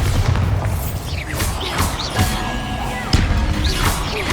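Spell blasts from Hogwarts Legacy, an explosive Bombarda burst among several loud booming impacts and crashes layered over busy combat noise and music, with strikes landing roughly every second.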